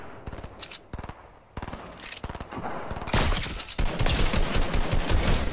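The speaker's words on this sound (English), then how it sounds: "There was like barely any recoil on my AR there." Assault rifle fire in Fortnite, short rattling bursts of rapid shots with brief gaps, then a longer, heavier stretch of continuous automatic fire mixed with other shooting, loud and close.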